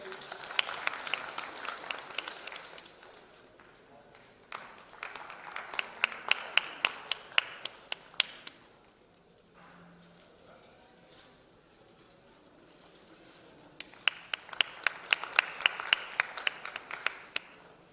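Audience applause in a conference hall, bursts of clapping rising and fading in waves, with a quieter lull in the middle before a final strong round.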